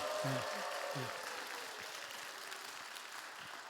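A church youth service congregation gives brief, faint applause from across the room, with a voice speaking briefly at the start over the soft, scattered clapping.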